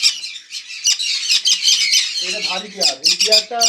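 Loud, harsh conure parrot squawks come in rapid bursts close by at a bird farm, with a person talking briefly underneath.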